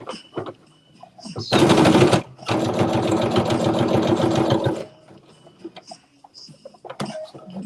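A sewing machine runs a back stitch: a brief loud burst, a short pause, then a longer steady mechanical rattle, close up, with faint sounds of handling before and after.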